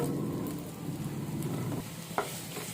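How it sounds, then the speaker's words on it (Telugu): Onions dropped into fresh oil in a pan fry with a steady close sizzle, a short clatter near the end and no voices, while cucumber roti chutney is being made. "ఇదే ప్యాన్లో ఇంకొంచెం ఆయిల్ వేసుకుంటున్నాము. ఆనియన్స్."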